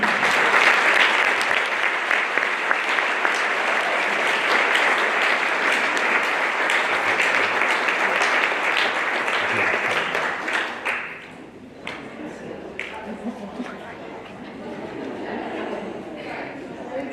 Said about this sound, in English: Please give a big round of applause for these outstanding women.